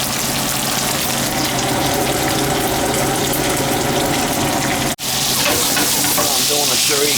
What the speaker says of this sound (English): I'll brown all the meat before I throw it in there and give it a little sear.